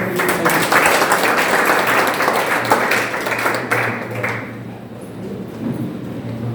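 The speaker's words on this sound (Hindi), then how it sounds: "एक बार जोरदार तालियां आप" Audience applause at a Hindi-language motivational seminar on an income scheme, a dense loud wash of clapping for about four seconds that thins and fades toward the end over a steady low hum.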